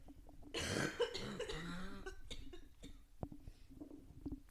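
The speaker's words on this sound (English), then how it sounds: "Sorry, I'm going to cough again." A few short, harsh coughs and throat noises burst out close up, followed by quieter scattered sounds.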